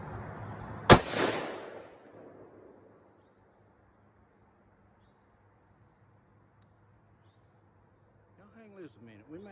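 One loud, close gunshot at a shooting target cracks out and fades into a quiet outdoor background, with a voice talking faintly near the end.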